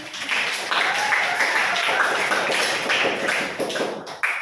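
Classroom applause for a student, a dense burst of hand clapping from many pupils that holds steady for several seconds before tapering off near the end.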